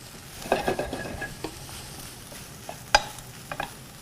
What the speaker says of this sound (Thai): เราก็จะใส่ ตัวไส้กุ้งที่เมื่อกี้เราผสมแล้วก็พักไว้ลงไปครับลวนให้สุกในกระทะ